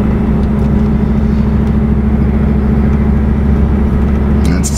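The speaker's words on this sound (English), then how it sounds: "It's got a nice V8 rumble to it." A 1985 Pontiac Trans Am's V8 idles with a steady, deep rumble, close by and constant throughout with no clear revving.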